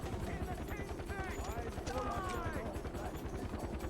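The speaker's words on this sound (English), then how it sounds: "They have a helicopter." A helicopter in the video game Far Cry 4 gives a steady, thudding rotor chop throughout, mixed with game effects and a voice talking over it.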